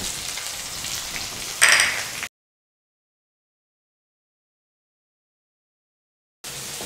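Sliced onion sizzles steadily in hot oil with mustard seeds and curry leaves for a lunch dish, a close, dense crackle that cuts out abruptly to silence and returns briefly at the end.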